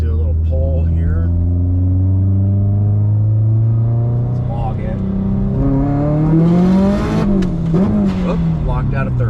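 A 550whp Subaru STI engine pulls hard from inside the car, its note climbing steadily through a gear before a brief shift and renewed rise, loud and close, with a short spoken word.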